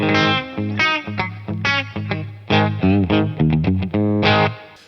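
An electric bass played through the overdrive of a Boss BE-5B multi-effects pedal, gritty sustained notes in a loose riff with a touch of reverb, no talking.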